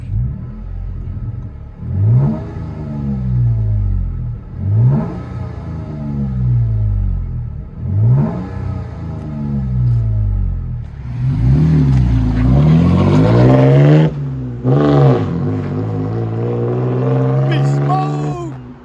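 A Toyota Tacoma TRD Off-Road with a 3.5L V6 and a Black Borla exhaust revs again and again: smooth, deep rises and falls, close and loud, ending in a longer, heavier run as a person talks.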